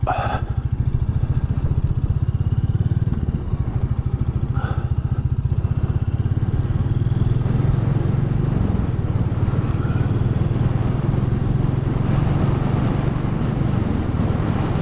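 A Royal Enfield 350 Classic being ridden on a running-in ride makes a loud, steady, thumping engine drone with wind rush. It holds constant for the whole stretch.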